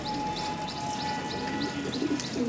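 A racing pigeon coos softly among other birds, with a steady hum underneath and light chirps scattered throughout.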